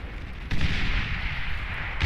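Long-range artillery firing in the strategy game Beyond All Reason, two heavy booming shots about a second and a half apart over a steady rumbling battle background.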